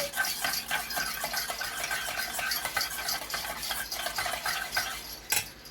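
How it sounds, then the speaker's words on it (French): A salted paneer biryani marinade with garlic and ginger being stirred and mixed in a bowl, continuous wet scraping and squelching with light utensil clinks and a sharper knock near the end. "Je vais saler. Je vais mélanger."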